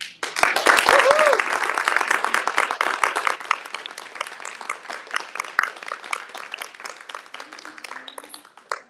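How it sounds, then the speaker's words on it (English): Audience applause fills the space, dense clapping that starts loud and gradually thins and fades over several seconds. "Let's give another round of applause"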